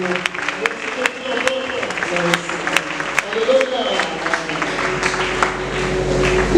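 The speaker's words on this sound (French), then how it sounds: "Nous acclamons pour lui." A church congregation at a New Year's Eve service claps and cheers to welcome a visiting apostle, a loud, busy wash of applause close by with voices mixed in.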